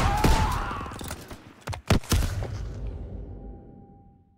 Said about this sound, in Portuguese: A minha granada pegou no cara.